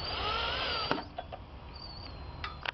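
A power drill drives a screw while hanging a flower basket in a garden, whining steadily for about a second, then dropping to short intermittent bursts close by.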